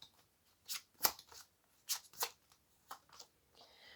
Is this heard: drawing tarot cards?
yes